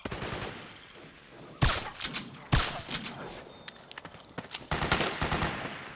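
Gunfire in Metal Gear Solid 4 comes in loud bursts of rapid automatic shots after a quieter opening, with repeated rattling volleys and brief pauses between them.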